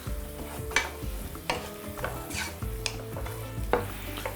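Chopped onions sizzling in a pan while making a beef and vegetable sauce, with repeated scraping stirs of a utensil against the pan punctuating a soft, steady fry; no voices.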